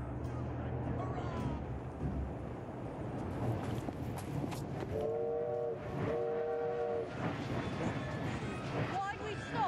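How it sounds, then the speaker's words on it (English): A steam train in the Assassin's Creed Syndicate video game rumbles in and sounds two long whistle blasts midway, with rolling wagon noise throughout and someone talking over it. "Train's coming."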